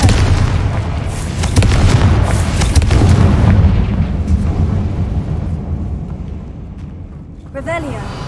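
A Confringo fire spell explodes in Hogwarts Legacy, a loud booming blast with a rumbling roar that slowly fades, and a voice calls out near the end.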